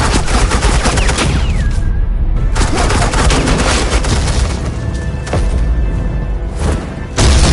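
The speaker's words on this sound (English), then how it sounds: "suppressing fire." Suppressing gunfire in Batman: The Enemy Within, a loud, relentless hail of rapid shots and thuds filling the whole stretch, close and heavy without letup.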